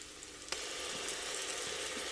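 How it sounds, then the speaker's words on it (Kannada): Ginger garlic paste fries in a hot pan, a steady bright sizzle that jumps up as the paste lands and then hisses continuously, close and fairly loud. "ಈಗ ನಾನು ಇದ್ರ ಜೊತೆಯಲ್ಲಿ ಶುಂಠಿ ಬೆಳ್ಳುಳ್ಳಿ ಪೇಸ್ಟ್ ಹಾಕ್ತೀನಿ"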